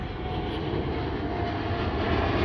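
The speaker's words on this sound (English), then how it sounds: "as the jet soars above Dorval." A jet soars above Dorval, Montreal, at night, its broad engine roar loud and steady throughout with no speech.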